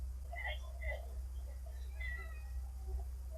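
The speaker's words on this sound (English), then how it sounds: "Yeah, that's our cat." A cat meows several times in short, plaintive calls over a steady low hum, with voices talking in the background.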